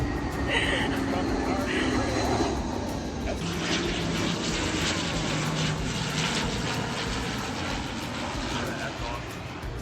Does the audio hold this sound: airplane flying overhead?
yes